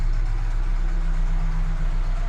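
A car engine idles steadily up close after a resonator replacement on the exhaust, a smooth low rumble with an even hum and no talking.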